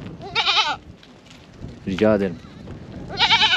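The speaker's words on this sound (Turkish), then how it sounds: "Kaliteli bir keçiye benziyor bu." A goat bleats loudly and close in a rural Wayuu family setting in Colombia, three wavering cries spaced across the moment, with someone speaking briefly between them.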